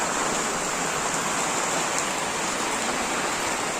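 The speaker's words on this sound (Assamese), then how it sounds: "বৰষুণ।" Heavy rain pours steadily outside a house, an even dense hiss close by with no pauses and no voices over it.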